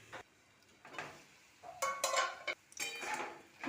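Greens cooking in a pan with fish oil are covered with a lid, giving a few clattering metal knocks and scrapes of pot and lid over a soft sizzle, fairly close and with no talk.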